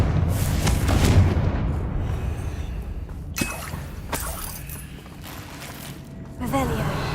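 Confringo spell blasts in a Harry Potter video game, booming explosions bursting over a dense battle mix of effects and music, with sharp impacts standing out near the middle and end.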